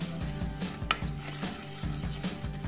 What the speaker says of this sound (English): Keep stirring until all the sugar has melted into the butter.